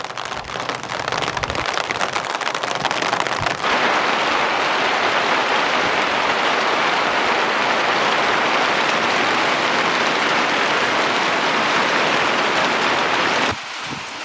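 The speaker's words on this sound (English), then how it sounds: "Looks like we have one more cloud blowing through with some rain." Rain from a passing cloud pours down over a farmhouse garden and greenhouse area, a loud, dense, steady hiss that starts a few seconds in and cuts off near the end.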